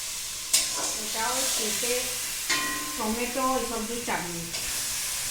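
Papaya and tomato cook in a kadai with a steady background sizzle, while voices talk over it nearby in several bursts.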